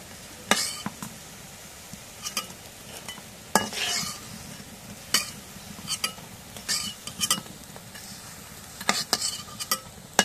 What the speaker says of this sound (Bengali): এখন পেঁয়াজ ভাজা হয়ে গেছে, এখন নামায় নিই।